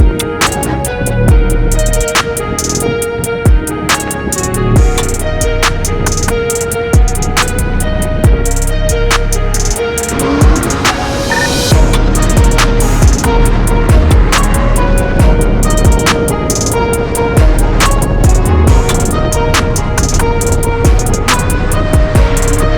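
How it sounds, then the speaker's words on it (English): A Mercedes W201 spins its tires while drifting on a muddy, slick surface, with a loud, sustained engine roar that surges and holds at high revs over tire noise for the whole stretch, with no voices. "It can spin the tires so easy."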